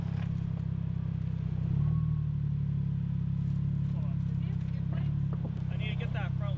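A lifted Subaru off-roading on a rough trail strains its engine with a steady, low, droning rev while the driver-side wheel spins. Voices talk over the engine noise, which stays loud and close.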